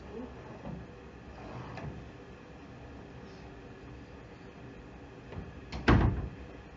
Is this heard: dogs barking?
no